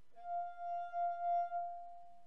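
A wine glass with a small amount of water, its rim rubbed to make it sing, gives a steady pure ringing tone with faint overtones that swells and wavers slightly before fading, close and alone.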